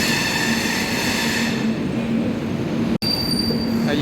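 The 12804 Swarnajayanti superfast express runs along with a loud, continuous rumble of carriage and wheels, steady wheel squeal and rattle heard from inside a crowded coach, with a sharp break near the end.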